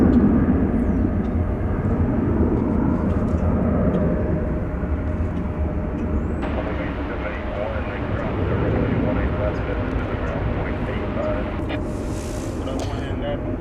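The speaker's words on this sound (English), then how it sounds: "There we have American Flight 1324 off to Los Cabos, Mexico, 737-800" An American Airlines Boeing 737-800 departing DFW Airport for Los Cabos, its broad jet engine rumble steady and moderately loud throughout, with a voice speaking over it.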